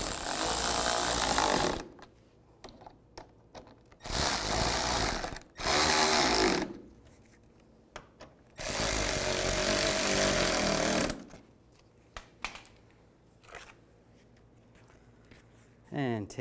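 Loud bursts of a power tool tightening bolts on the front bumper of a 2007-13 Chevy Avalanche, about four separate runs of one to three seconds with quiet gaps and small handling clicks between them.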